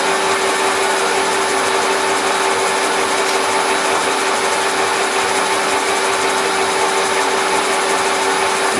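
A machine cutting a bevel gear takes a light trim off the outboard edge, giving a steady, continuous loud whirring hum with a fixed whine, unbroken and without talk.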